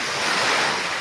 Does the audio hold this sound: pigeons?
no